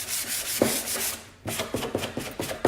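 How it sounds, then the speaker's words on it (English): Hand sanding a wooden frame along the grain, quick scratchy rubbing strokes up close in an uneven rhythm, with one brief pause partway through and no voices. "we're just sanding off that sheen"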